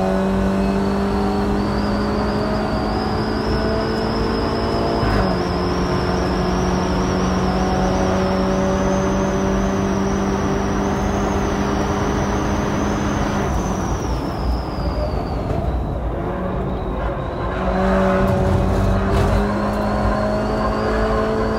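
Automatic BMW F30 sedan on a racing lap, its engine droning steadily at high revs with rising and falling pitch as it accelerates and shifts, close and loud throughout with no talking.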